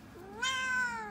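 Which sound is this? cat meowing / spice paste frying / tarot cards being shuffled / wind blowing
cat meowing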